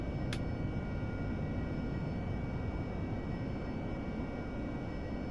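A steady, dense aircraft engine drone from a jet taxiing in DCS World, constant and moderately loud throughout with one brief high click near the start.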